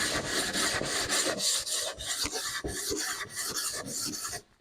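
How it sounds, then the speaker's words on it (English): A hand sanding block rasps along the edges of wooden sawhorse parts in a garage workshop, giving a loud, close scratching in quick back-and-forth strokes that runs steadily and then stops. "I'm just going to hit the edges with my sanding block just to break the edges a little bit"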